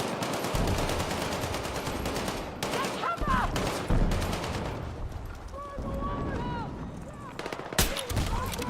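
Gunfire from the Battlefield 6 video game, with dense rapid bursts of automatic fire, loud single cracks and a sharp blast near the end, while a voice talks intermittently over the shooting.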